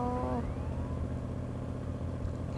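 Car driven in the GTA video game: a steady engine and road rumble runs throughout at even loudness, with a brief rising tonal sweep near the start.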